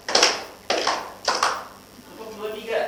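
A class of students clapping a rhythm together, three sharp group claps spaced evenly, loud and close, with voices chanting along between them.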